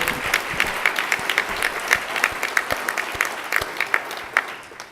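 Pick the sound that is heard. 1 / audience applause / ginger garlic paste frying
audience applause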